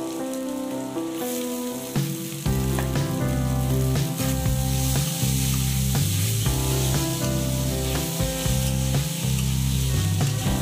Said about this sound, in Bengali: মশলাটা কষানো হয়ে গেছে, এবার আমরা দিয়ে দেবো মাছ।